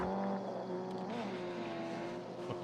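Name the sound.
car driving in a video game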